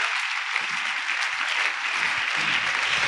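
A church congregation applauds during a sermon, a steady, dense wash of clapping that holds at an even loudness for about three seconds with no talk over it.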